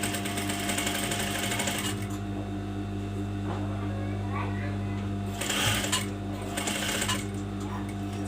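A sewing machine stitches the seams of a qandoura, a long traditional robe. Its steady, close mechanical whir runs throughout, with brief pauses and restarts, and someone talks over it.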